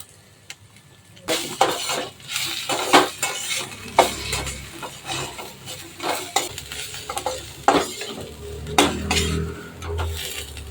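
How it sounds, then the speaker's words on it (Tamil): Egg fried rice mixture sautéing in a hot pan, with a spoon repeatedly scraping and clinking against the metal over a steady sizzle, close and fairly loud throughout. "இப்போ இது 2 நிமிஷம் வதங்கட்டும்."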